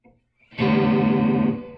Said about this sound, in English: I can hear the rotating speaker effect really strongly right now.